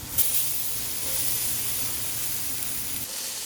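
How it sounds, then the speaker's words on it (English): Tenderized string beans fry in a hot pan, a steady bright sizzle and hiss that flares at the start and then holds level, close by and without talk. "So the second the string beans hit the pan, because they were already tenderized, they got brown right away."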